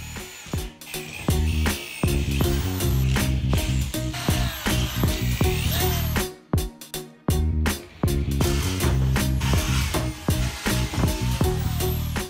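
A power drill bores into a Weber Smokey Mountain grill leg in loud, whining bursts that stop and restart repeatedly, with short pauses and sharp metallic screeches as the bit cuts through the metal.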